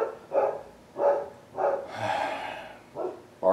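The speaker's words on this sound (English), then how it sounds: "Barking neighbor's dogs." Neighbor's dogs bark in repeated bursts about half a second apart, moderately loud and nearby, with one longer, rougher outburst in the middle.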